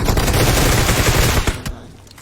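Rapid automatic gunfire in the mobile battle royale game PUBG Mobile, a loud, close, continuous burst of overlapping shots that cuts off after about a second and a half, leaving a fading tail.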